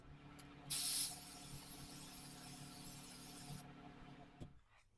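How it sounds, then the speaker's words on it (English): A short hissing burst of white aerosol spray paint on an old frame, then a steadier spray hiss lasting a few seconds before cutting off with a small knock. "Some white spray paint to start off with."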